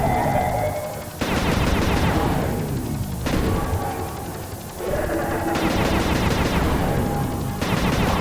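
Gunfire in the video game Sly 2: Band of Thieves: several loud bursts of shots in quick succession, each sharp attack trailing off, with game sounds between them.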